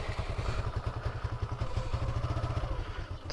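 A Suzuki Gixxer motorcycle engine runs steadily at idle close by, with a loud, even, rapid low-pitched thumping pulse and mechanical clatter throughout.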